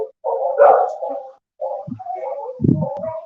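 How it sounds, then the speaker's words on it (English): Dogs play together at an animal shelter, giving close, loud playful barks, yips and growling whimpers in short bursts with brief pauses between them. "if you get two dogs, they actually play together."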